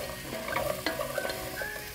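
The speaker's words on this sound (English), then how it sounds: "I like to put salt in when my veggies are sauteing" Salted vegetables for a vegan butternut squash soup sauté in a pan with a close, steady sizzle, broken by a few short stirring scrapes and clicks, with no speech.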